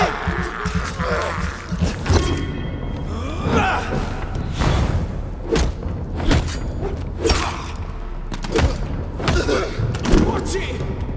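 Grenade explosions in the video game Vampyr, heard as a series of heavy booming thuds and clattering impacts scattered through a noisy combat scene, with voices speaking over the action.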